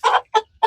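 A rooster gives three quick, close clucks in a short sequence, loud and clear, with brief pauses between them.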